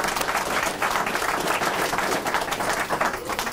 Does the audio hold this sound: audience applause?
yes